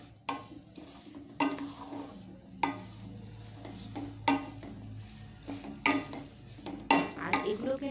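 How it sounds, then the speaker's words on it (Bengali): Sesame seeds being stirred into hot sugar syrup for chikki, a brittle sweet, give a series of scraping, rasping strokes in a quiet kitchen, repeating every second or so at moderate volume. "এবার আমি তিলগুলো দিয়ে দিলাম, দিয়ে সব কিছু একসঙ্গে ভালো করে মিশিয়ে নেব।"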